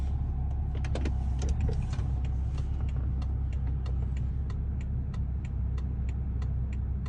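A BMW steers itself into a parking space automatically, giving a steady low motor hum under a run of evenly spaced light clicks.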